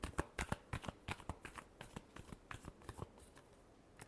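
A deck of tarot cards is shuffled close up in a quiet room, with a quick run of soft, crisp riffling slaps in an irregular rhythm that slows toward the end.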